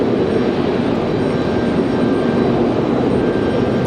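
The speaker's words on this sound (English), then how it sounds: "Aer Lingus, number 1, off to Dublin" An Aer Lingus jet airliner rolls for takeoff at Raleigh-Durham, a steady, loud engine rumble with a faint high whine throughout and no talking.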